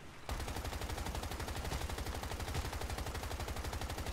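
Rapid automatic gunfire from a player's weapon in the survival shooter Once Human, sustained bursts of sharp, loud shots in a steady rhythm after a brief quiet start, close and continuous.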